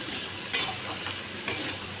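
Teasel gourd fries in a pan with ginger and whole spice tempering: a soft, continuous sizzle broken by two sharp spatula scrapes about a second apart, close by, with no talk.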